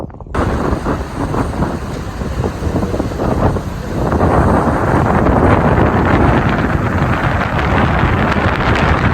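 Strong seashore wind buffets the microphone on a UK beach in a loud, continuous roar, growing heavier midway, with no voices.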